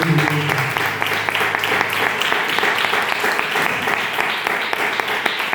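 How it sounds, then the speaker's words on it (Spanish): A crowd claps steadily and loudly throughout at a Christian church sermon, dense sustained applause from many hands with a faint voice or tone at the start. "Dale un aplauso a Cristo."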